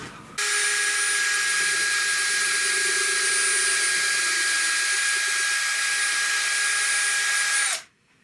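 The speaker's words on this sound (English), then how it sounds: "We could drill holes for them." A power drill whirs at a steady high pitch for about seven seconds boring a pilot hole in wood, starting abruptly and winding down at the end; no voices.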